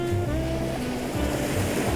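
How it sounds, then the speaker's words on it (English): Sea waves wash steadily onto the beach at Sizewell Gap at dawn, a close, loud and continuous surf roar with no talking. "Got the beautiful sound of the sea."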